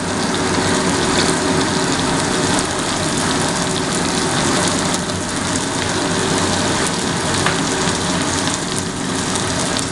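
Noodles and vegetables fry in a hot pan for Bengali-style egg chowmein, with salt sprinkled over them, a dense, steady sizzle that stays loud and even from start to end with no voices.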